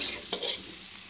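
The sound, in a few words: cauliflower frying in a pan on low heat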